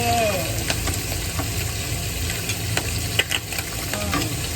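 Fish crackling and spitting as it fries in hot oil and is flipped over, a loud, dense, continuous sizzle with a few sharp pops and brief snatches of a voice at the start and end.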